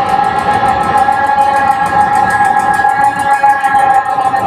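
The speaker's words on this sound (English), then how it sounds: "So it's like a synth octave kind of thing, and cave reverb turned way up, and that will make your guitar sound like this." Electric guitar loop run through a Line 6 M13 synth octave effect and heavy cave reverb, forming a loud, dense, continuous wash with a steady pulsing shimmer on top and no voices.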